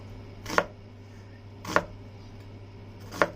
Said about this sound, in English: make it a little easier to cut onions without tearing up